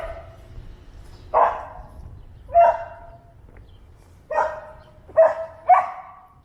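A dog barks to be let back indoors on a street in Cabbagetown, six single barks spaced a second or so apart, mid-distance and fairly loud over quiet outdoor background hum.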